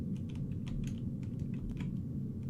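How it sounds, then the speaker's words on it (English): Rapid computer keyboard typing sound effect from a Unity video game demo, a steady run of light clicks over a constant low background hum. "Typing."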